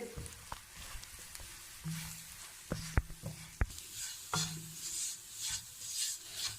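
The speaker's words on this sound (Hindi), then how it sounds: "मैदे को हम इस मक्खन में थोड़ा सा भून लेंगे।" Flour roasting in butter with softened onions in a pan, a soft continuous sizzle broken by scraping spoon strokes and a few sharp taps of utensil on metal, close and fairly quiet.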